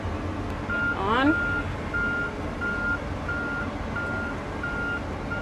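John Deere autonomous tractor gives a steady series of evenly spaced reversing beeps over a low engine rumble, with a brief rising whoop at the start and faint background voices.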